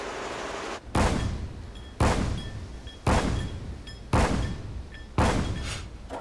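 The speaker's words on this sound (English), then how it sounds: "And the 76 millimeter cannon, firing 120 rounds per minute." A 76 mm naval cannon on a destroyer fires five heavy booming rounds about a second apart, each a loud sharp blast trailing into a rumbling decay.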